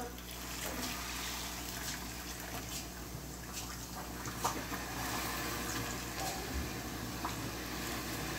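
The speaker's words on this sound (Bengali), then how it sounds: "তো আমি এর ভিতরে এবার গরম পানি দিয়ে দেব," Hot water pours into a pot of fried biryani ingredients, a continuous rushing splash over the hiss of cooking, with a few small knocks and no voices.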